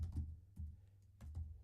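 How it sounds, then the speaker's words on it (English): Typing on a computer keyboard, soft close clicks in a few quick clusters with short pauses between them, quiet and alone. "I'm having trouble typing visualization today."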